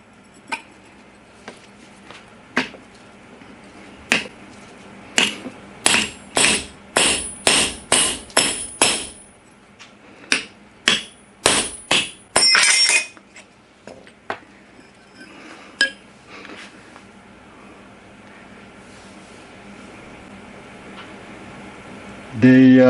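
A hard-steel knife blade, MagnaCut or 1095, chops down onto a 16D nail in a series of sharp, ringing metallic impacts. The blows come in irregular clusters, loud and close, then fade into quiet background noise.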